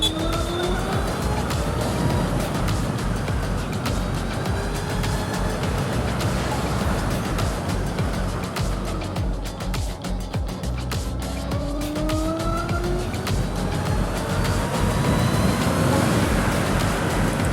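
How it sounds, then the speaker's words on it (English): A diesel-engined vehicle revving hard, with engine pitch rising and falling through gear changes, loud and close, with brief sharp crackles over the drone. "Dirty diesel."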